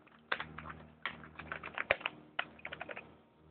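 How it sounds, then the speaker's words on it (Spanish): Keys on an old Compaq LTE Lite 4/40CX laptop clack in irregular bursts of typing, close and crisp, with brief pauses between clusters of keystrokes. "Vamos a probar el teclado."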